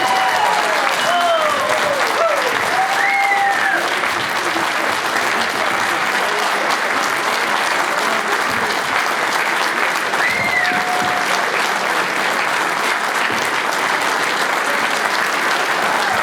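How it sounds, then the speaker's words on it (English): A dinner audience breaks into sustained, even applause lasting the full stretch, with a few whoops and whistles rising over the clapping. "please give Cherie Murray a big, big round of applause."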